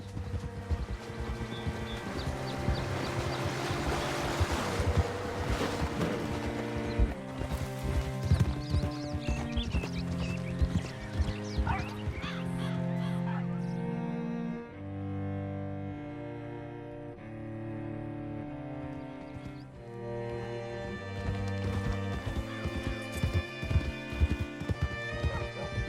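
Horse hooves clip-clop steadily in Red Dead Redemption 2, a rhythmic plodding gait that runs through most of the stretch beneath prominent orchestral game music.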